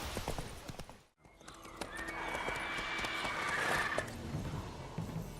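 Roach, Geralt's horse in The Witcher 3, trots with a steady clip-clop and gives a drawn-out neigh in the middle, close and clear over a busy outdoor background.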